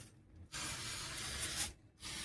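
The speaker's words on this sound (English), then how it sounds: "Now I'll just give them a good spray over, pour for them like that, quite liberally" Aerosol carburettor cleaner hisses steadily for over a second as it is sprayed on Dellorto DHLA 40 carburettor parts, starting and stopping in short bursts with brief pauses, close and fairly loud.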